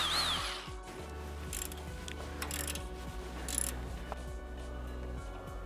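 An impact wrench or similar power tool works loose stubborn bolts on a Toyota Tacoma leaf spring pack in a shop, giving a steady mechanical whir broken by several hammering bursts, close and fairly loud throughout.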